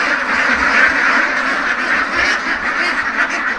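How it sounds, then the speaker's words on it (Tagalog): A flock of two-month-old domestic ducks quacking steadily and loudly close by, many overlapping calls with no pause. "mga itik na to"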